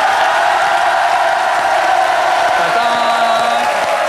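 Studio audience on a French TV show applauding and cheering for a singer holding a gold record, a steady loud wash of crowd noise throughout, with faint tones creeping in near the end.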